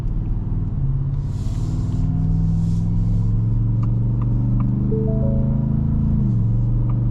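A Ford F-150 Raptor R with a 5.2L V8 accelerates while towing an enclosed trailer, a deep engine note rising steadily in pitch from inside the cab, with a brief dip near the end as it shifts, under faint chimes.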